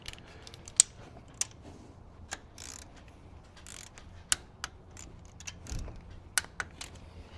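Torque wrench tightening oil bypass filter mounting bolts to 18 foot-pounds under the hood of a 6.6L Duramax, giving faint scattered clicks and ratcheting ticks at uneven intervals, close by with no talk.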